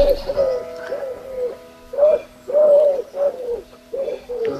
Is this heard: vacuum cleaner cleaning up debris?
no